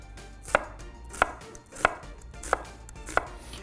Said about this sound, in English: Next thing we're gonna do is slice up 3/4 of a cup of red onion.